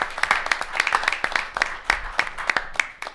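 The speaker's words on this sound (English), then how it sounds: "She needs a round of applause right now." A small crowd claps in scattered, uneven bursts for a few seconds, moderately close.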